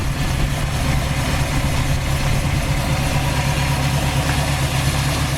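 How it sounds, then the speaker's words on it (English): A 1956 Mercury's mostly stock engine idles smoothly and steadily, a low even rumble at close range with no revving or voices. "The engine runs excellent,"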